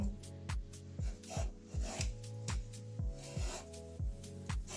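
A peeler scrapes along a young bottle gourd in a quiet, steady rhythm of about two rasping strokes per second, each one short and close, with no one talking.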